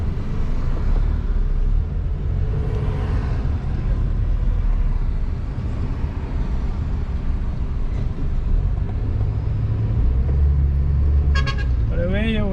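Steady road traffic crossing a bridge near a roundabout on a road in Guyana, a continuous loud rumble of passing cars with a horn toot near the end.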